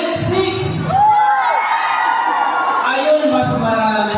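A crowd of school children shout and cheer loudly and continuously, with high whoops and screams rising over the mass of voices.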